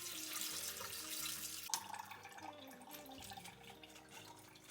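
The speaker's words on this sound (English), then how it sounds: "Now I'm going to drain the almonds and give them a good rinse" Soaked almonds are rinsed under a running kitchen tap, a steady close splash of water drumming into a sink strainer, continuous and moderately loud with no talk.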